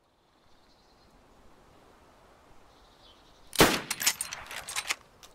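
Gunfire in the survival video game DayZ Standalone: a sudden loud shot followed by a rapid cluster of several more cracks and echoing reports after a quiet stretch with faint background tones.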